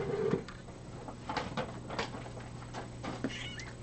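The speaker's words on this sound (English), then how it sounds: "Should we show some kitty?" A cat at a feline rescue center meows a few times close by, short cries mixed with quiet shuffling and light background noise.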